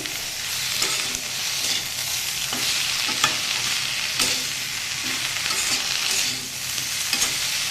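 Flat beans and potatoes with turmeric and salt, tempered with cumin and mustard seeds, are stirred in a hot pan, producing a loud, steady frying hiss with regular spatula scrapes recurring every second or so.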